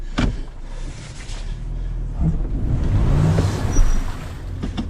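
A 2019 Toyota 4Runner TRD Pro stuck off-road, its engine droning low and rising into revs with the wheels working, loud and close with rumbling, wind-like noise throughout.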